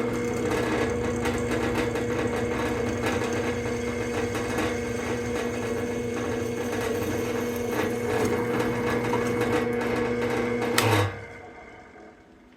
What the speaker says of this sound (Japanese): サイドスタンドの固定用の穴を開けます。